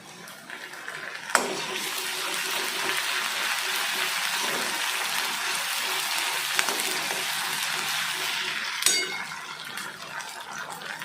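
Onion sizzles in a pan as ginger-garlic paste goes in, a loud, steady hiss of frying with a few sharp clinks of a utensil against the pan throughout.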